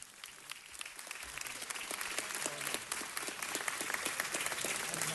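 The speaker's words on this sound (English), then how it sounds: "she deserves a big round of applause." Spectators at a city council meeting applaud a library volunteer being recognized, many hands clapping in a sustained, even roar that swells slightly and holds, crisp individual claps standing out near the front.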